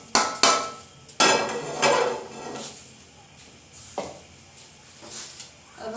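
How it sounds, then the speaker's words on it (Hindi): Roasted sesame seeds being scraped out of a cooking pot into another vessel, a series of loud metallic clanks and scrapes of a spoon against the pot, followed by quieter intermittent knocks, with no talking. "अब हम इसको एक अलग बर्तन में निकाल लेंगे।"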